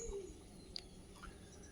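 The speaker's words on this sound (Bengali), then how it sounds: "এত রং বেরঙের সেই পাখির ডাক শুনতে পারবেন" Faint bird calls, a low coo and a few brief chirps, sound from a distance over a quiet outdoor background near the Rupnarayan river.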